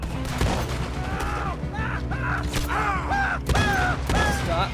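A gunfight in the western game Red Dead Redemption 2, loud repeated shots and thuds over a steady bed of background music, with a brief voice.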